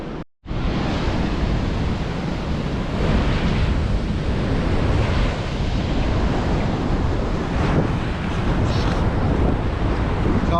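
Ocean surf rolls and breaks continuously on Mandalay Beach in Western Australia, a loud, steady wash of waves mixed with buffeting wind noise on the microphone, with no voices.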